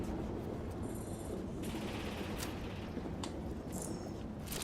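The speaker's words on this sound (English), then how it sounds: "This is a lackluster slow-firing pulse rifle review." A slow-firing pulse rifle in a first-person shooter video game fires in faint, scattered bursts of gunfire over a steady low background rumble.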